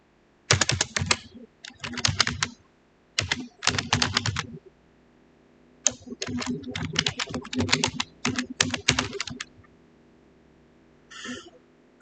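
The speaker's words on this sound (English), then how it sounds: "I'm going to type it so that you understand as we go along why it is important" Rapid keystrokes on a computer keyboard while code is typed: close, fairly loud bursts of clattering taps in several runs of a second or more, separated by short pauses and ending with a brief softer burst.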